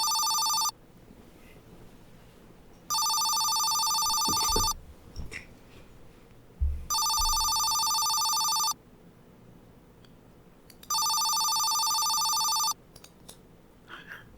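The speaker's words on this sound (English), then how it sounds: "This sound really bothers me. I think I should check this phone" A telephone rings in a horror video game, the receiver held in a hanged woman's mouth; three long, loud electronic bell bursts repeat with quiet gaps between them, without talk.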